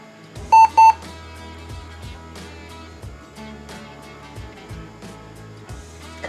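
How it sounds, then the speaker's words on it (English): A Compaq computer gives a quick double beep as it reboots into MS-DOS, two short, loud, pure tones close together, followed by quieter, rhythmic drive and machine sounds. "Compacts always had that double beep sound when they came on."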